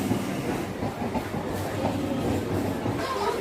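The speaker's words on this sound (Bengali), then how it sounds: "এই ফেরার ট্রেন এলো" A train pulls in at Thakurnagar station, a moderately quiet rolling rumble with faint wheel clatter against busy platform ambience, with no clear talk.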